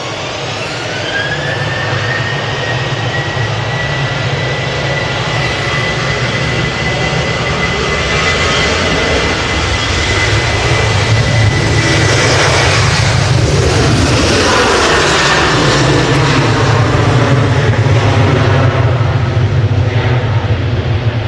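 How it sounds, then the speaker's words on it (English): A Ryanair Boeing 737 jet operated by Malta Air roars at Manchester Airport, its loud, continuous engine noise swelling and shifting pitch as it passes close by. "A Ryanair 737 operated by Malta Air, and it's going to Cologne."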